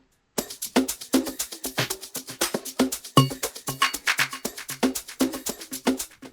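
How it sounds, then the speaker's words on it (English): A steady 3-step Afro house percussion loop made in FL Studio, with a bright, rapid shaker pattern riding over a low kick, a tight repeating rhythm played alone with no talking. "And then we also have a shaker loop."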